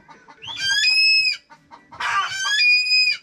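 A chicken clucks and calls in two loud bursts, with a short pause between them, close by and without any talking.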